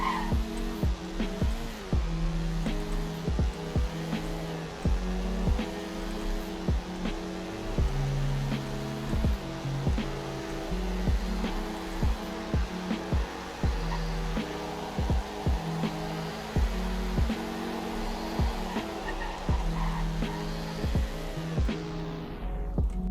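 A car engine in the Roblox driving game Greenville revving through repeated gear changes during a speed run, steady and fairly loud throughout, with no talking.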